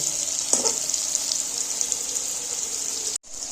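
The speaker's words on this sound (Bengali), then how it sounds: "আর একবার উল্টে এবার আমি এইভাবেই ভেজে তুলে নেব" Potatoes stuffed with a lentil filling fry in a wok, giving a steady, moderate sizzle with a faint clink near the start, before it cuts out abruptly at the end; there is no talking.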